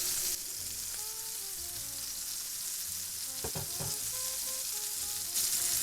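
Blackened lionfish seared skin side down in a hot pan, a steady moderate sizzle with a brief cluster of crackling pops partway through, no voices.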